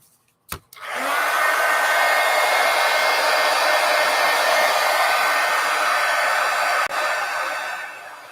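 A hair dryer runs steadily and loudly for about seven seconds to dry paint on a mixed media artwork, starting after a couple of brief clicks and with a small dip near the end.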